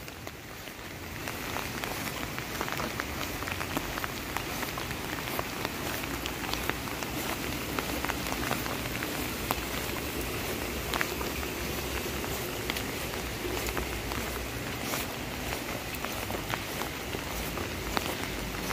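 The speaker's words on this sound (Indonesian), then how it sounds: "karena memang hujannya sangat deras" Heavy rain pours steadily in the highlands of Wonosobo, near a railway station, a dense continuous hiss and patter holding constant throughout with no voices.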